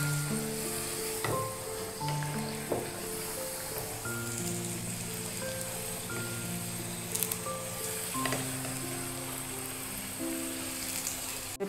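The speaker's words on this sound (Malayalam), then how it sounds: "നമുക്കിത് തിളച്ച് കിടക്കുന്ന എണ്ണയിലേക്ക് മുക്കിക്കൊടുക്കാം." A payasam glass mould dipped in boiling oil fries with a steady close sizzle and bubbling for the whole stretch, joined by faint clinks and tonal hum from the kitchen. Nobody speaks.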